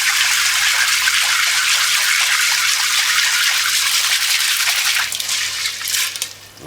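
Chicken feet being washed by hand in water in a large pot, giving a steady, continuous splashing and sloshing close by that eases off and grows quieter near the end.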